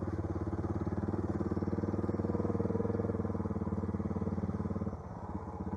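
An adventure motorcycle, one of a DR650, Tiger 800, KLR650 or BMW R100R, labours up a big steep hill, its engine a loud, steady, throbbing drone that drops slightly near the end.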